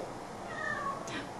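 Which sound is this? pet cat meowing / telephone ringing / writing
pet cat meowing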